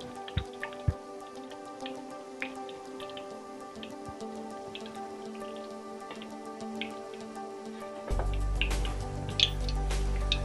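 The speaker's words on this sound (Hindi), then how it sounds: "अब हम इसमें तेल डाल रहे हैं।" Oil poured into a pan while cooking chicken chilli: faint drips and small taps in a quiet kitchen, then a sudden, steady sizzling hiss as the oil hits the hot pan near the end.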